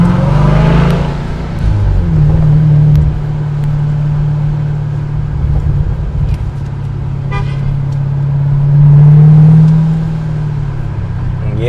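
Dodge Durango Hellcat SUV with supercharged engine, a loud steady exhaust drone near the microphone, swelling twice as the engine revs, with faint supercharger whine above it.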